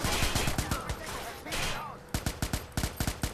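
Loud rapid automatic gunfire in the video game Watch Dogs, dense bursts at first, then a break and a string of separate distinct shots near the end, with game voices mixed in.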